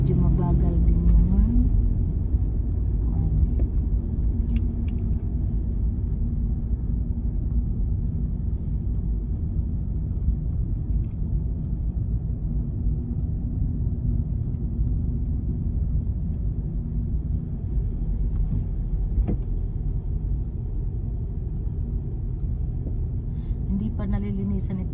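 Slow, heavy road traffic with many cars on the way to a church, heard as a steady low engine rumble from vehicles nearby, with no clear individual pass-bys.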